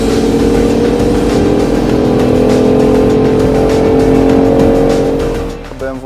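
A BMW i8 hybrid on a race track gives a loud, steady, droning engine note, partly generated through speakers, holding close and constant before easing off at the end.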